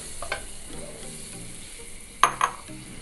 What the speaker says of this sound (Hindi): ये देखें जी, मैंने इसमें बटर ऐड किया है।